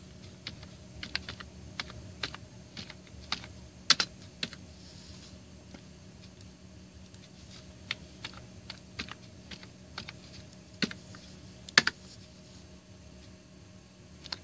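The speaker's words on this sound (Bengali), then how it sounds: "সাপোজ আমি এখানে লিখছি উইন্ডোজ 7।" Typing on a computer keyboard, sparse individual key clicks scattered across a quiet room hum, some taps sharper and louder than others, with no speech.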